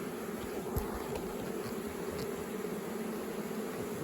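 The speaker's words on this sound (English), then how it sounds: "there are some bees here on the lid" Honey bees swarming around the lid of a hive after a swarm, a dense steady buzzing drone close by, unbroken and even in loudness for several seconds, with no voices.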